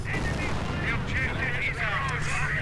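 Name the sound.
gunfire and artillery in a WWII strategy video game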